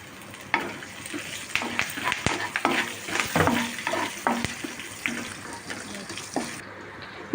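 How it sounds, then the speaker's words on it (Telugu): Green chillies and ginger fry with cashews in a pan for katu pongal, giving a soft sizzle under busy spoon stirring and scraping, with scattered clinks and a faint watery wash in the background. "అల్లం కూడా వేయించుకోవాలి"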